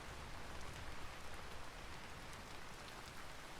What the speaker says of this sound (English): Listen to the rain hitting the leaves.